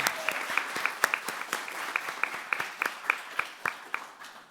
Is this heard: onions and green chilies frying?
no